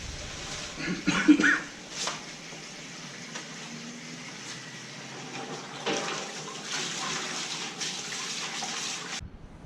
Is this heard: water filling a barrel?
yes